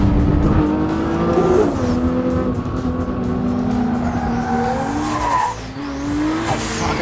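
A 1400-horsepower AMS Performance Alpha 12 Nissan GT-R drifts, its engine droning loudly and rising and falling in pitch while the tires squeal, a sustained, close roar with no talking.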